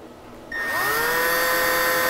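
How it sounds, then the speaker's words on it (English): A cheap Harbor Freight power drill spins up sharply on steel with a bent bit, its whine rising and holding steady and loud after a quiet start, with lube added to the cut. "It may or may not drill steel."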